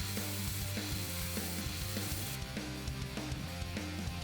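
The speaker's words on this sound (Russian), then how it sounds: "Так как заготовка большая и она не влезает в дрель, грубо обтачиваю ее до 10 мм." An electric drill spins a large blank of unhardened 95Kh18 stainless steel while it is rough-turned down to 10 mm. A steady motor whine with layered harmonics runs throughout, close and continuous, with a gritty scraping texture on top.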